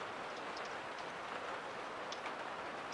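Steady rain in the video game Among Trees, a soft continuous hiss of falling drops with a few faint patters, quiet and unbroken, no voices.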